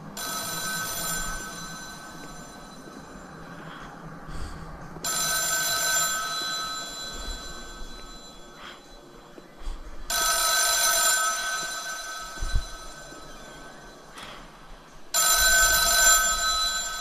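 A telephone rings in repeated bursts inside the psychological horror game The Town of Light, each ring lasting about a second with pauses between, loud and alone with no talk over it.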